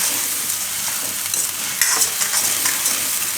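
Ginger, chili, garlic and onion fry in a pan with a bright, close sizzle, and a spoon scrapes and stirs through them in uneven bursts. No one talks.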